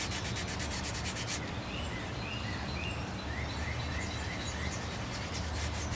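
Clear wax is rubbed onto the finish of an upholstered bench in a steady, continuous scrubbing hiss, close and even, with faint chirping in the background.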